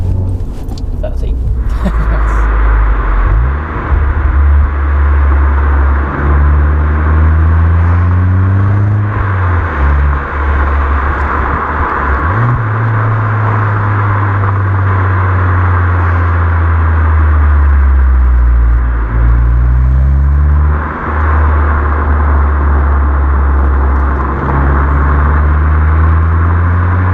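A car fitted with a Milltek cat-back exhaust accelerates hard through several gears on the road, its loud exhaust note rising and dropping with each gear change, then droning steadily at speed in close, continuous cabin-heard rumble.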